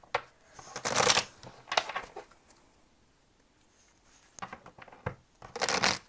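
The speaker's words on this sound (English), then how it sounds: "Three shuffles." A deck of tarot cards is shuffled by hand in several quick riffling bursts, crisp and close, separated by short quiet pauses.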